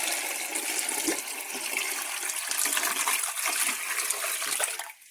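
Water is poured into an All American pressure canner holding seven quart jars of raw-pack pork. A steady, rushing splash continues for about five seconds, then cuts off abruptly.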